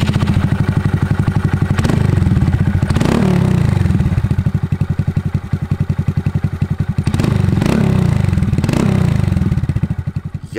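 Honda MSX 125 Grom motorcycle engine idling close by with a fast, even putter, lifted by several short throttle blips into brief revs before settling back to idle.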